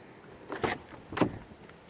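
Sliding side door of a 2018 Chrysler Pacifica Touring L wheelchair mobility van opening, heard as two short mechanical clunks about half a second apart, moderately close and quiet.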